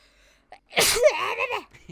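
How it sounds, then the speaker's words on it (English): One sharp, close sneeze erupts after a short breathy intake, trailing off into a vocal exhale. "every time I sneeze it makes me cough afterwards"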